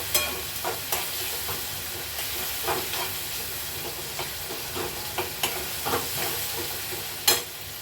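Tomatoes and curry leaves fry in oil in a home kitchen pan, a steady broad sizzle with scattered clicks and stirring taps, one sharper knock near the end, no voices.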